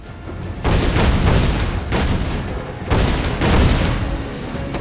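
Ship cannons fire in a naval battle in Assassin's Creed IV: Black Flag, sounding as several heavy booming volleys that overlap into a rolling, loud barrage.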